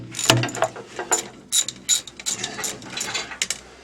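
A ratchet clicks in short irregular bursts while working on a tractor's mechanical front wheel drive, metallic and close, alone without talk.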